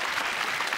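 A studio audience on a Taiwanese TV variety show applauds, a brief, steady wash of clapping from many hands.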